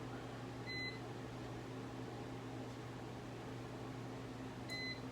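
A countertop oven cooking bacon-wrapped pork tenderloin, giving a steady, quiet fan-like hum throughout, with a pair of short electronic beeps near the start and again near the end.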